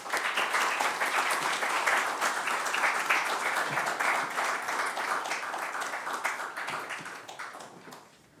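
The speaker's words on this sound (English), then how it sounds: "Huge round of applause for them, please." An audience applauds to welcome panel speakers at a talk on India-China relations, steady dense clapping throughout that tapers slightly at the end.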